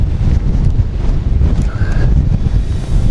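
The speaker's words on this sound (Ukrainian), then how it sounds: "Трішки вітряно." Steady, loud wind buffeting a microphone outdoors on a ridge in the Carpathian mountains during a storm, a low rumbling roar with slight swells, no voices.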